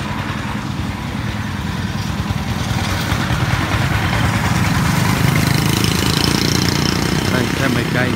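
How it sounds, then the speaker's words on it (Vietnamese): A Central Highlands farm tractor engine runs steadily and loudly nearby, a continuous rough diesel chug that barely changes throughout. "Đây xe máy cày của Tây Nguyên này."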